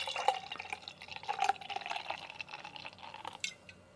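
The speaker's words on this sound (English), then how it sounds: "let's pour it out. Again, a very dark beer" Very dark coffee porter beer poured from a bottle into a glass, a close, fairly quiet stream of splashing and trickling liquid with a few scattered drips, no voices.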